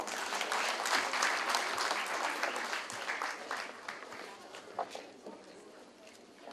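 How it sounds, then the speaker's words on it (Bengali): Loud applause from an audience at a Kazi Nazrul Islam birth anniversary function, dense clapping that is strongest at first and thins gradually, with a voice speaking over it. "জোরে করতালি।"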